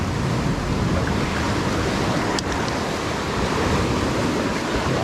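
An ocean wave crashes and surges in a loud continuous roar of surf that fills the whole clip, with wind buffeting the microphone in bad weather.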